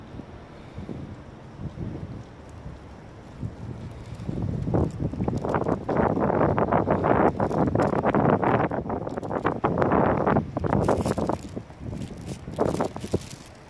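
Cold night wind gusts outdoors during a trip around Aso in Japan, rumbling steadily against the microphone and swelling louder in the middle before easing off, with no talking.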